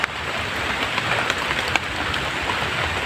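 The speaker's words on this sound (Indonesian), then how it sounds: "Nih, hujan semakin deras" Heavy rain pours steadily on a mountain trail, a dense, even hiss with scattered heavier drops, loud and unbroken throughout.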